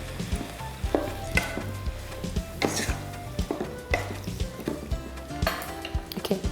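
A utensil scrapes and knocks around a pan in repeated strokes over a constant sizzle, close up, with no one speaking.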